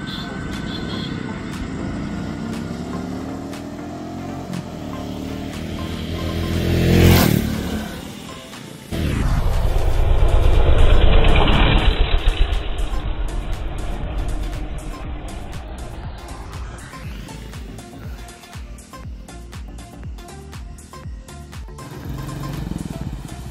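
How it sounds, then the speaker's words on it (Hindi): Royal Enfield Bullet motorcycle ridden past at around 80 km/h: an engine note rises to a loud, close pass, cuts off sharply, then a rushing roar recedes and fades into a lower, uneven engine rumble. "अभी मैं बुलेट लेकर के आता हूँ थोड़ी दूर जा करके, और 50 प्लस की स्पीड में इसको क्रॉस करेंगे।"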